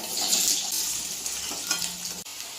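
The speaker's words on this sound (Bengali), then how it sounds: "কড়াইতে তেল তেল একটু জিরে দিলাম, আলুগুলো সব দিয়ে দিচ্ছি" Potatoes and cumin seeds frying in oil in a wok, giving a steady close hiss and crackle that runs almost the whole time, then cuts off sharply near the end.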